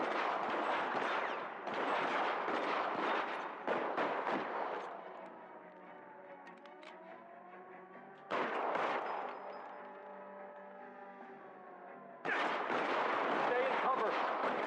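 Covering gunfire in a video game comes as long, loud sustained volleys of rapid shots. Quieter gaps between the bursts carry a tonal voice or music.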